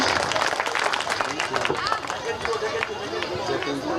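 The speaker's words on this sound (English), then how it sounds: "Please everyone clap for our little star." An audience claps for a child who has just recited a rhyme at a winter carnival stage event, a dense crowd applause of many hands with chatter and voices mixed in throughout.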